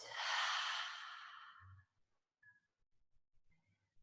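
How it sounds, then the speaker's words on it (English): A single long, deep exhale during a gentle shoulder and hip breathing exercise, close and breathy, fading out into near silence with a few faint soft noises after. "Breathe out."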